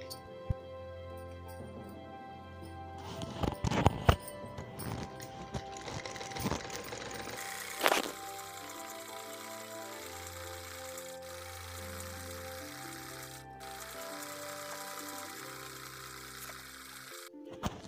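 A sewing machine stitching the side seam of a ladies' suit, running in bursts with a close mechanical whir and rattle, then a quieter steady hum.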